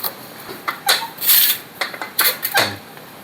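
A knife chopping vegetables on a board, a string of uneven close thuds and scraping cuts, some sharper taps among them, moderately loud with no talking.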